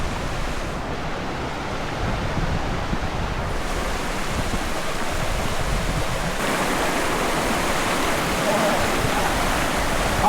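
A waterfall and creek rush steadily near a hiking trail, a dense continuous roar of flowing water with no pauses, holding a constant level throughout.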